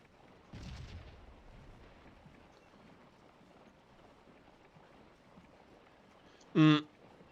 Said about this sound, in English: I think they're taking some decent losses up there from artillery fire.